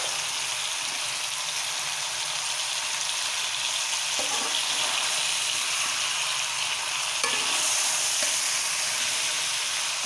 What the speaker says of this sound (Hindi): प्याज शामिल करेंगे जो हमने हाफ फ्राई करके रखे हैं।